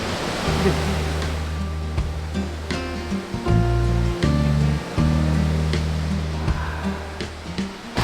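Waterfall in a forested valley camp area, a steady broad rush of falling water heard close, with faint voices and occasional knocks in the background.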